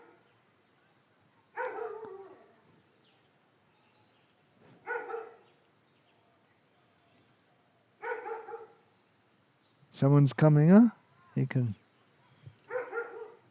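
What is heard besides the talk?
dog barking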